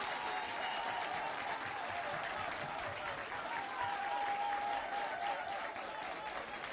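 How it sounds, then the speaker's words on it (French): Audience applause at a Christmas Caribbean singing contest final, a dense, steady clapping from a crowd that holds evenly throughout, with a faint murmur of voices mixed in. "On applaudit ça."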